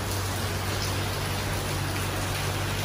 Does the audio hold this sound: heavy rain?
yes